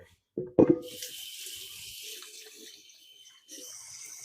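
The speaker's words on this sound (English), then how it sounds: "let's wash our hands" Running water pours from a kitchen tap as hands are washed under it, a steady, soft hiss following a brief clunk, stopping, then starting again near the end.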